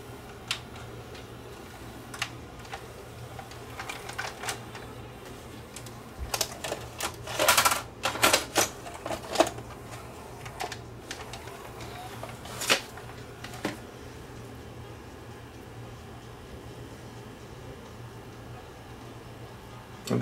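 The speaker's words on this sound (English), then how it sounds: "I'll grab this other tape, which is a CCAM tape, and we'll try this one and see how this tape plays on this machine" Samsung SV5000 multi-system VCR loading and playing a CCAM tape: quiet steady mechanical hum with scattered clicks and ticks, plus a cluster of louder clunks from the transport mechanism midway through.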